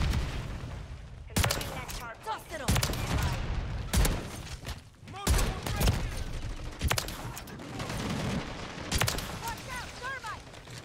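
Rapid bursts of video-game gunfire from Call of Duty MW3 as a VTOL aircraft is shot down, loud overlapping volleys and blasts filling the scene with brief gaps between them.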